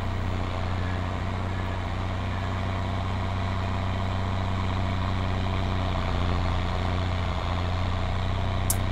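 A tractor with a cultivator attached idles in Farming Simulator, a steady low engine drone holding constant throughout with no talk.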